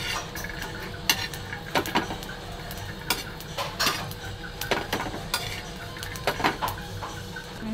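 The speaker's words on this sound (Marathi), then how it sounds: "मिरच्या भाजून घेतल्या, थोडासा लसूण पण भाजून घेणार आहे" Garlic being roasted in a dry pan for a spicy guar bean and green chilli thecha, heard as irregular metallic clinks and scrapes of a utensil against the pan over a low steady background, with no talking.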